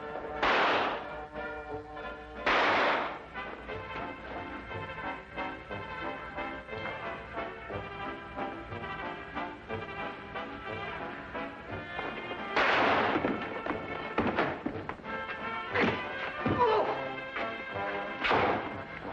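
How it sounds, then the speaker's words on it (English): Gunfire in a 1950s Sherlock Holmes TV drama, several sharp loud reports at irregular intervals separated by quieter stretches, with no talk. "Fire it, Holmes. Fire it!"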